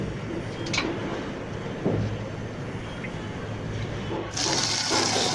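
Water runs steadily from a tap into a large cooking pot for boiling spaghetti, a continuous broadband rush that shifts slightly in tone near the end as the flow changes.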